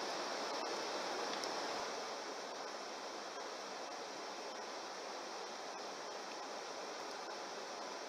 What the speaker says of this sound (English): I've arrived at a waterfall